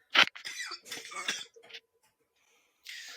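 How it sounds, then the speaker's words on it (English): A person coughs close to the microphone: one sharp, loud burst, then a run of rougher coughing sounds over about a second and a half, then quiet with a faint hiss near the end. "I'm going to cough again."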